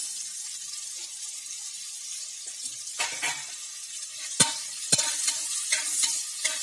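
Onions, tomato and green chili are sautéed in a pan for vegetable pulao, giving a low, steady sizzle. A few sharper scrapes and clinks of a spatula against the pan stand out near the middle.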